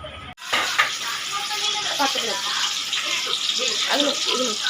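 Carrot, green chilli and onion fry in a pan for biryani, producing a steady loud sizzle throughout, with a person talking over it.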